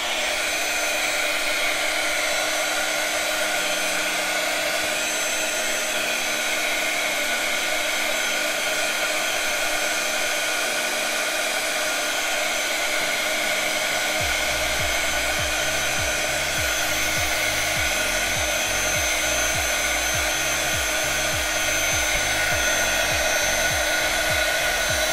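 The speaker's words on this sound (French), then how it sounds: "je vais sécher au hot gun" A heat gun blows steadily while drying paint on a homemade DIY tag, a loud continuous broadband whoosh with a faint whine, running unbroken and alone throughout, with a low rumbling pulse added in its second half.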